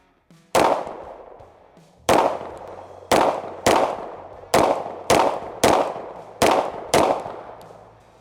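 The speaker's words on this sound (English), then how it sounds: "Shoots really good. It's a really good shooting and feeling pistol." Nine sharp, loud shots from an Oracle Arms 2311 pistol crack out at an uneven pace, each followed by a short echoing decay, with no talking.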